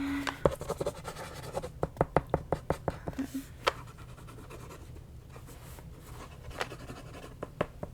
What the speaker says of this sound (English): let me write those down